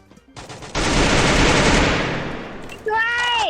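Sustained burst of automatic gunfire in the mobile battle royale game Free Fire, loud and close, rattling on for about two seconds before fading, then a higher game sound effect cutting in at the end.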